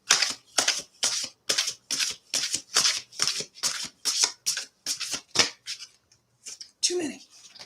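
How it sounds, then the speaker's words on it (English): Large oracle cards shuffled by hand in a quiet room, a long run of crisp rhythmic riffling slaps about twice a second, close and clear, pausing briefly before one last burst of card noise. "So these are really big cards. It's hard for me to shuffle."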